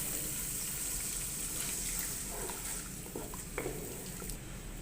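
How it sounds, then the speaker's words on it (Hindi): A cup of water is poured into a pan of vegetable kofta curry, giving a faint, soft splashing gush over a quiet kitchen background. No one speaks. "एक कप पानी ऐड करेंगे।"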